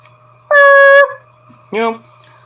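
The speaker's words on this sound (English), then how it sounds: "Goes for the hell of a kick, but Knoxville stops him with an air horn." A loud, blaring air horn blast sounds for about half a second at a WrestleMania 38 match, followed by a shorter second honk after a brief pause.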